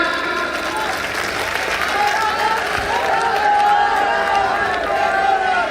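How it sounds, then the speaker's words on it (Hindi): A crowd at a mushaira poetry gathering in Mumbra applauds steadily throughout, a dense wash of clapping with a murmur of voices underneath. "जोरदार तालियों के साथ"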